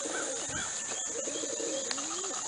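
Pigeons outdoors near trees cooing softly and chirping, with a few brief flutters, over a steady background hum.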